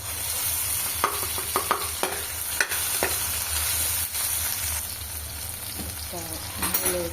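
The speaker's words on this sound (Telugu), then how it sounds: "టమాటా ఉల్లిగడ్డ అయితే ఇలా ఆయిల్లో మగ్గించేస్తాం" Tomato and onion fry in oil with a close, constant sizzle, and a spoon stirs them with scattered clinks and scrapes against the pan.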